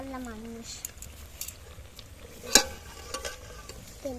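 Food fries in hot oil with a faint, steady sizzle and occasional stirring clinks. A voice speaks briefly at the start over the crackle.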